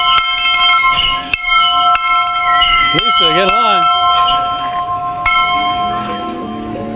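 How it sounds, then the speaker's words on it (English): A dinner bell rings at a gold mining camp, several sharp clangs at irregular intervals with long ringing overtones, loud and close, while people talk and a rooster-like call rises briefly in the middle. "I guess we're going to ring this bell again in a little bit"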